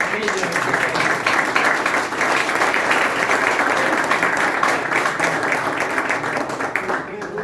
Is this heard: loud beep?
no